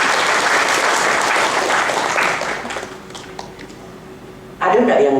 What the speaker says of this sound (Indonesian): Tepuk tangan dong untuk Bapak dan Ibu semuanya.